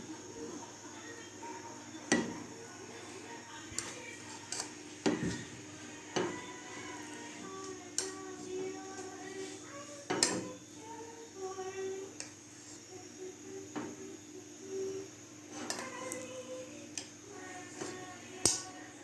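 Dishes and cutlery clink and tap sparsely while corned beef and rice are plated in a home kitchen, with irregular close knocks and scrapes over quiet background and occasional faint talk.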